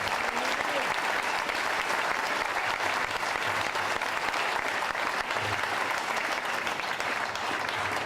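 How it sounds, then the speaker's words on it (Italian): Sustained applause from the audience at a political gathering of Indipendenza Veneta in Vedelago, dense and steady clapping filling the whole stretch at even loudness. "vi prego di dare un applauso."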